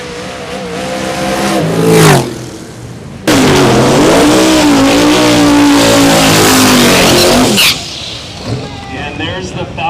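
A Camaro drag race car launches off the line at a drag strip, its engine roaring loud and close with rising revs, a hard blast that dominates over announcer commentary.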